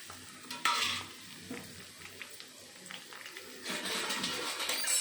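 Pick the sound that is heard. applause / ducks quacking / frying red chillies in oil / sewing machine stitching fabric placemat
frying red chillies in oil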